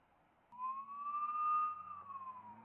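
Sirens wail from Border Patrol Wagoneer vehicles, a rising and falling electronic tone heard faintly at a distance, starting after a short quiet moment.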